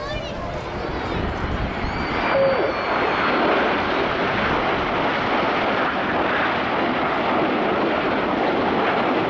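Red Arrows jets fly in formation at an air show, a loud broad roar that swells and holds as the aircraft pass, with a commentator talking over the noise.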